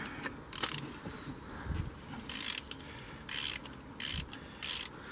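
Wrench ratchet clicks in short bursts as water pump bolts are loosened on a Mercedes Vito W639 OM646 diesel engine, several close, crisp ratcheting spells separated by brief pauses.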